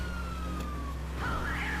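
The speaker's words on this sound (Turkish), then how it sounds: "arkada polis arabası var sıksana şunu" A police car siren in GTA Online wails with a falling tone and then a rising one, heard over a steady low engine drone in game play.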